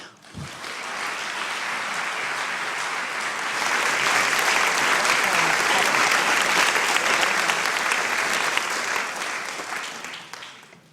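A lecture audience claps steadily to welcome speaker Martin E. Marty. The sustained applause swells slightly mid-way and fades out at the end, with no voices over it.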